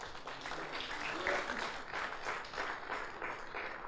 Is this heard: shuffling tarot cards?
no